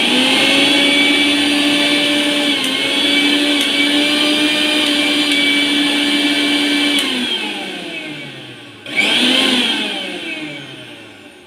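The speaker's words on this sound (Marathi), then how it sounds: "आपला मिक्सर रेडी आपला मिक्सर दुरुस्त झालेला आहे." A repaired kitchen mixer grinder runs with a loud, steady motor whine that winds down near the end, then briefly restarts with a renewed surge.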